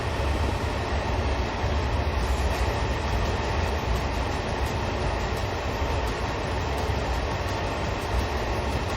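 Train running on the Derby to Matlock line in Train Sim World 2022 during a snow storm, a continuous rumble with faint clatter, steady and dense throughout, no voices.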